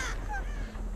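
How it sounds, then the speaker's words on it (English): A crow caws once in Dead by Daylight, a short harsh call near the start over a steady low game ambience, with no talking. "That crow just snitched on me."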